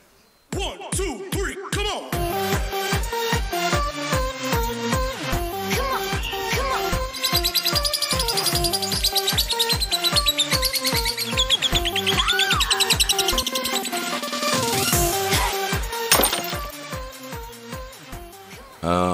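Lovebirds at a breeding farm chirp in a dense, rapid stream of sharp, repetitive calls, loud and close, continuing without pause.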